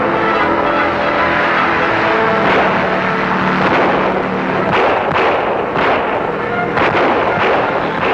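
Gunfire rings out in a 1942 radio serial, a loud, continuous barrage of rapid shots and blasts over a dense, roaring background, heard close and alone without speech.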